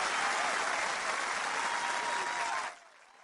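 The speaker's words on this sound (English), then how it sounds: "let's give her a round of applause" Dense applause from an audience fills the space loudly and steadily, then cuts off abruptly near the end, leaving a faint quiet tail.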